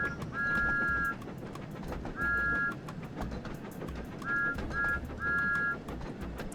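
A train whistle in a video game sounds repeatedly in steady two-tone blasts, several long and short toots spread over a constant rumbling rail background with no talking.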